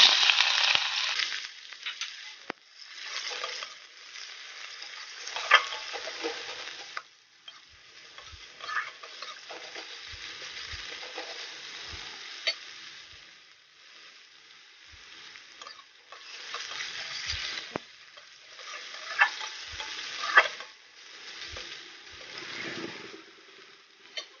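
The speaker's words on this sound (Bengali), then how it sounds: "পেঁয়াজগুলো ভেজে নিয়েছি।" Onions frying in oil with black cumin seeds, a close hissing sizzle that swells and eases in waves, broken by spoon scrapes and soft knocks against the pan.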